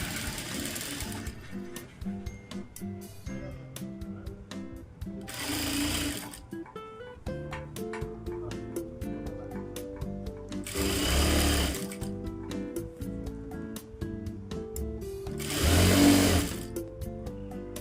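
Sewing machine hemming the folded edge of a lined blouse with neat edge stitching, running in steady rhythmic bursts that rise and fall in loudness over the whole stretch, close by and without any talking.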